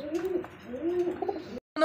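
A pair of small blue satin pigeons coo in rolling, throaty murmurs at close range, the soft calls running on before cutting off abruptly near the end.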